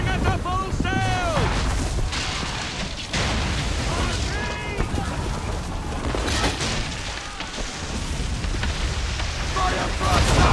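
Swivel guns and cannons fire from a sailing ship in Assassin's Creed III, heavy booms and bursts layered over a continuous battle din, with shouted voices and whistling tones over the dense, loud mix.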